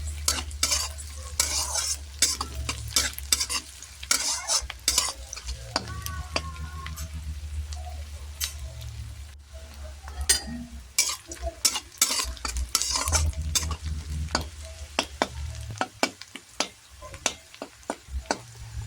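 Onion, ginger, garlic and chopped green chilies frying for a dhaba-style egg tadka, with steady sizzling under repeated clattering stirs of a spoon against the pan, close and busy throughout.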